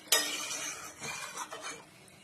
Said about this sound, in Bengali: তারপরে এরকম বেগুন দিয়ে দিলাম এর মধ্যে, দেখো নাড়িয়ে দিলাম।